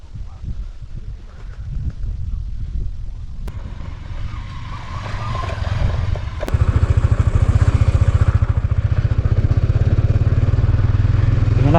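Motorcycles rumble nearby at Khaliajuri haor in Netrokona, a steady engine drone with wind buffeting that grows louder and harsher toward the end.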